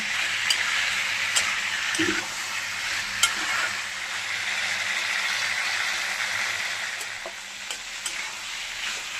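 Chopped bottle gourd sautéing in a pan, giving a steady close hiss of frying with scattered clicks and scrapes as it is stirred, sustained throughout with no talking.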